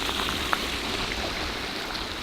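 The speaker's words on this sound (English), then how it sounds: "Oh look, I gotta walk through a stream already" Stream water on a hiking trail in Red River Gorge, swollen after recent rain, gives a steady, close, broadband wash and babble with no pauses, alone and without talk.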